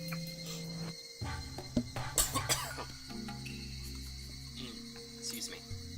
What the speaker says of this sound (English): Just had to clear my throat.